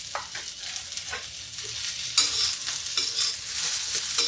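Cluster beans frying and being stirred in hot oil in a wok for a dry sabzi, a steady close sizzle broken by repeated scraping stirs, with no voices.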